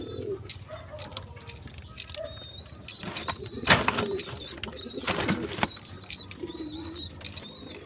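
Pigeons being fed, soft low coos and a few brief flutters and scuffles close by, with high, thin chirps repeating in the background.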